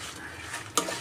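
Gongura leaves for pickle fry in a pan as a spoon stirs them, a soft steady sizzle with faint scraping and one sharp clink of the utensil against the pan, close and quiet.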